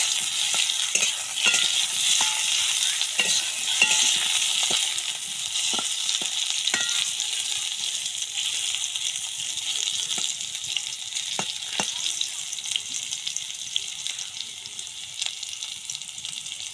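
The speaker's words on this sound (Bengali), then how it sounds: "এগুলো ভালো করে লাল লাল করে ভেজে নেবে" Potatoes fry until browned in hot oil with a constant loud sizzle, broken by occasional scraping stirs and light clinks of a utensil.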